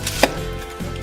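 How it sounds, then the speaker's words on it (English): A knife or pizza cutter slices through a homemade veggie pizza with one sharp, close crunch of crust, set against a steady low kitchen background. "let me cut it and get to tasting."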